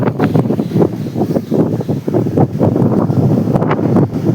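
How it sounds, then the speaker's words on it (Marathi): Strong sea wind at the beach buffets the microphone in loud, uneven gusts of rumbling roar, with no voices. "किती हवा आहे जोरदार समुद्राची"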